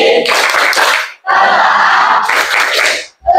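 A class of students performs the rhythmic Tepuk IPA clapping chant in a school science lesson: loud, dense bursts of group clapping and voices in three phrases separated by brief pauses.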